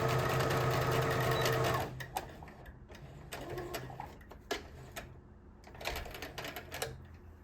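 A sewing machine stitches a tote bag lining in a fast continuous run of rapid ticks, then breaks into short bursts as it back tacks, sounding close and clear.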